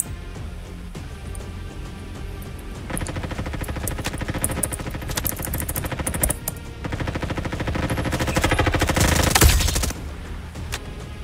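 Heavy automatic gunfire in the Roblox shooter Frontlines rattles in long continuous bursts, loud and dense, building toward the end with only a brief lull.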